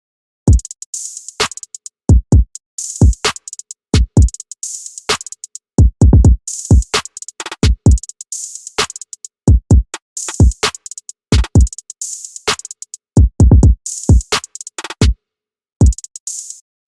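Full hip-hop drum pattern loops loud and alone: booming kicks, constant hi-hats, claps, snares, a bouncy perc snare and quick snare rolls, tight and punchy throughout.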